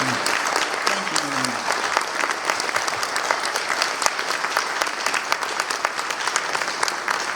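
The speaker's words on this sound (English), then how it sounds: "please, everybody, give a massive round of applause" Steady applause from a crowd, dense clapping throughout with a brief voice at the start.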